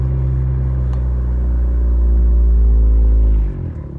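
A 2019-2020 Honda Accord Sport 1.5T with a loud exhaust holds a deep, booming rumble close by, steady and heavy before the drone drops off abruptly near the end.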